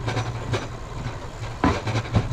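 Railway wheels roll over a track switch, with a steady rumbling run broken by a few distinct clacks as the wheels strike the switch points, heard close and alone.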